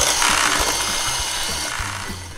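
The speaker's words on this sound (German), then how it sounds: "Und verrühren das Ganze." Palatschinken pancake batter is whisked briskly in a bowl, giving a loud, close, rhythmic scraping and sloshing with regular strokes and no talk.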